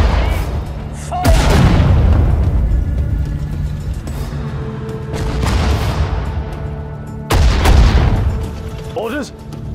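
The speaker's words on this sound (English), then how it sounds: "Artillery ready. Artillery, fire! Fire!" Artillery in the World War II desert warfare strategy game Sudden Strike 4 fires three heavy booming shots spaced a few seconds apart, each with a long rumbling tail over steady battlefield ambience, with short voiced unit acknowledgements in between.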